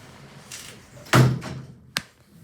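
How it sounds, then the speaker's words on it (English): ThyssenKrupp lift doors sliding shut, a short whoosh ending in a firm thud, then a sharper knock a moment later, close and fairly loud. "Doors closing."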